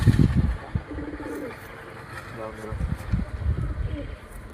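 Pigeons cooing in a loft of birds offered for sale, soft repeated low coos, close by, with someone talking over them at intervals.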